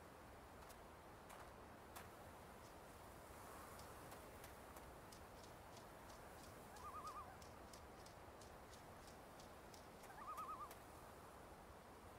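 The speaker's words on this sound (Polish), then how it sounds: "ten odgłos ptaka w ogóle coś znaczy" Bird calls from the video game The Vanishing of Ethan Carter: two short, soft tonal calls a few seconds apart, faint and distant over a quiet ambient wash, with a steady pattern of light ticking behind them.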